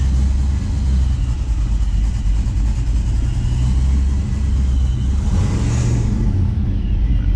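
An LS-swapped older Chevy or GM car engine runs steadily nearby, rumbling at idle, with a brief light rev toward the end before it settles again.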